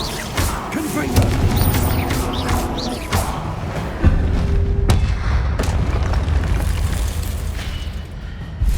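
Blasting-curse explosions from the Confringo spell in the video game Hogwarts Legacy: a few loud booms and thuds, one landing sharply near the middle, over a busy bed of game combat effects.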